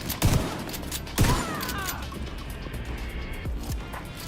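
Shotgun blasts in a first-person shooter game: two loud booming shots about a second apart, then a fainter third shot later, each followed by ringing, clattering game noise.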